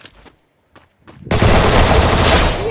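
Rapid automatic gunfire from the video game Free Fire erupts loudly after a few short voice fragments, a dense, continuous burst of shots filling the last second and a half.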